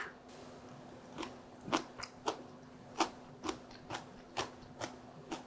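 Someone eats kalguksu noodles, made with soybean flour and zucchini, alongside fresh cabbage geotjeori kimchi. Close, quiet, crisp crunching bites repeat at a fairly even pace over a low hum, with no talking.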